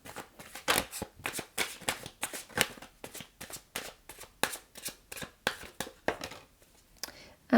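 Tarot cards are shuffled close by in a quick, regular series of about twenty crisp riffling slaps, each a short papery burst, with no talk.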